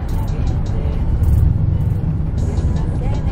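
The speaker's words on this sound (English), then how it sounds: "This truck is running pretty smooth." Chevrolet Silverado pickup truck with a 2-inch shackle drop, engine running steadily with a dense low rumble throughout, close and loud, with faint hiss above.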